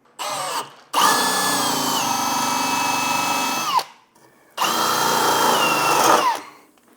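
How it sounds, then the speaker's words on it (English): Power drill spinning a 3/4 inch spade bit through wood while a cabinet is installed, with a brief rev followed by two sustained loud whirring runs under load and a pause between them. The drill sounds close and alone. "I got a 3/4 inch paddle bit, spade bit, whatever you want to call it"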